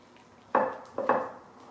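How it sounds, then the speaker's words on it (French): Pastry dough of flour, vegetable oil, vinegar, water and egg stirred in a bowl, heard as two short scraping, knocking strokes of a utensil against the bowl in a quiet kitchen. "On va juste mélanger, on ne va pas trop la travailler."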